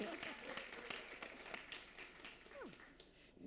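An audience at a design show talk claps in a scattered, moderately dense burst, fairly faint and distant, with a voice rising briefly partway through.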